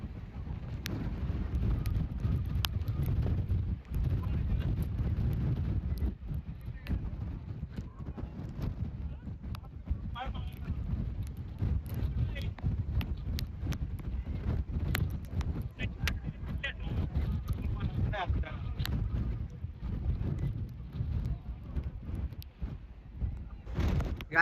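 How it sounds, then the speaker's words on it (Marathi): Strong monsoon wind at a trekking viewpoint near a waterfall, roaring and buffeting the microphone in a loud, continuous low rush with gusty crackles throughout, joined by faint voices. "पण लय खतरनाक वारं चालू आहे एकदम"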